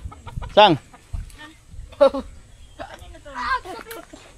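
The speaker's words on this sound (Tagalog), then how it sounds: "May manok dito sa taas oh." Chickens at a Maragondon campsite give a few separate squawking clucks nearby, each short and spaced a second or so apart, heard under and between people talking.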